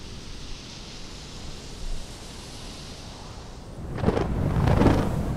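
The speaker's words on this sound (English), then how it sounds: "And storm force winds hammer in from the west." A storm with strong westerly winds sweeps across the Scottish Highlands in winter: a steady broadband roar of wind and weather that surges into heavier, louder gusts near the end, with no voices.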